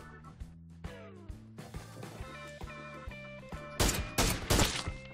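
Gunfire in the battle-royale video game PUBG (Battlegrounds), a solo ranked match: a few spaced shots over a steady music or ambient bed, then a loud burst of rapid, crackling rounds near the end.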